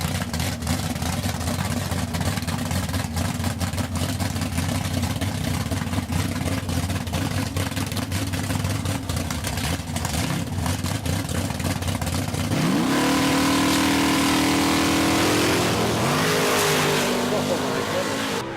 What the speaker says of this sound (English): Rich Kent, 600 cubic inches of alcohol burning big block Ford in the Alfa Pinto, dialed in at 563